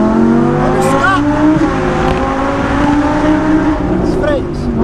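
An Audi R8 V10 being driven hard, its engine note loud and close throughout with rising revs as it accelerates, while someone talks excitedly over it.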